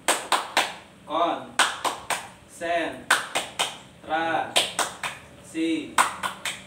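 A group plays the tepuk konsentrasi clapping game in a training session, with sharp, close, rhythmic bursts of hand claps in repeating patterns, alternating with voices chanting between the clap groups.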